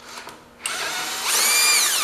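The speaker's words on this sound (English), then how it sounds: "I'm gonna drill this." A power drill drills into the flywheel of a 1978 John Deere 208 engine, whirring briefly, then spinning up again to a loud, steady high-pitched whine, close by.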